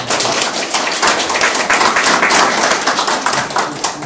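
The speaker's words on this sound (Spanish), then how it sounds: "Aplauso para él, por favor." Audience at a literary conversation evening applauding a guest, a close, lively burst of clapping from a modest crowd with individual hand claps audible throughout.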